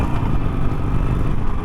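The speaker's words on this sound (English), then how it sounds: "Those little Sportster rips" A Harley-Davidson Sportster motorcycle engine running close and loud, a brief rough, rumbling burst of rev with steady low throb, no talk.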